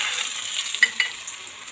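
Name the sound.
dried manathakkali berries frying in sesame oil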